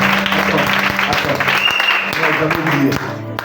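Church congregation applauding loudly during a service, a dense steady wash of clapping with some voices mixed in, fading slightly at the very end.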